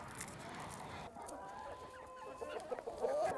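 Geese of an ancient breed on a poultry farm give faint, scattered honking calls against a low background hum, the calls growing a little busier toward the end.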